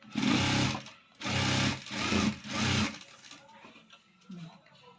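A sewing machine stitching a cross-cut blouse runs in three short bursts of rapid whirring, fairly close and clear, then stops, and a voice talks faintly after the last burst.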